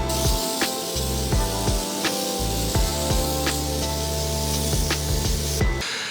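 WoolWax rust-proofing is sprayed onto the frame rails of a truck, a continuous loud spray hiss broken by short bursts and pauses, with a steady compressor-like hum underneath.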